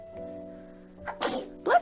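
A baby sneezes twice in quick, close bursts, the second sharper and louder, over a steady tonal hum in the background.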